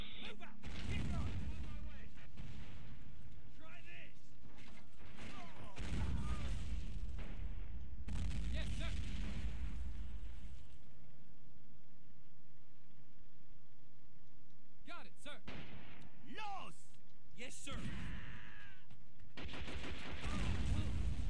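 Artillery booms and gunfire in the Men of War: Assault Squad 2 map Ramelle, heavy explosive blasts and bursts of shots coming in waves, with players talking over the battle.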